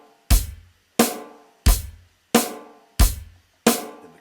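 A drum kit plays a steady quarter-note beat, six evenly spaced loud hits with bass-drum thump and bright cymbal wash, each decaying before the next, with no talking.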